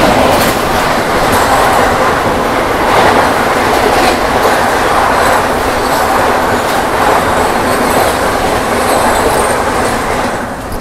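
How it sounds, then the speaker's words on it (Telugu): The 12841 Coromandel Express runs steadily on the rails between Tadepalligudem and Chennai, a loud, continuous rumble with wheel clatter that holds level for the whole stretch, with no voices. "తాడేపల్లిగూడెం నుంచి అయితే మన ట్రైన్ డిపార్ట్ అయిపోయింది."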